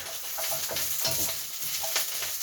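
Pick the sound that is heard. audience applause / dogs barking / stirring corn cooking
stirring corn cooking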